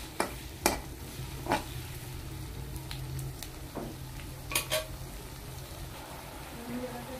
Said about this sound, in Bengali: এটাকে একটু ভালো করে ভেজে নেব, যাতে পুড়ে না যায় খেয়াল রাখতে হবে।